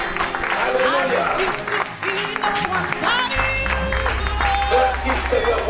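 A church congregation applauds and cheers loudly in praise, sustained clapping and shouts mixed with voices and a rising low instrumental drone.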